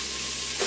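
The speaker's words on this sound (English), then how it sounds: "I'm gonna add in the onions. And I'm just gonna let those cook for a couple minutes until they are soft." Chopped onions sautéing in an Instant Pot give a close, steady sizzle and hiss, with a brief swell of louder frying near the end as they are stirred.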